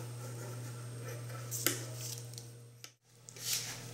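Scissors snip through a folded piece of Pellon interfacing for a purse lining, giving a few brief, soft cutting sounds over a steady low hum, with a short quiet gap near the end.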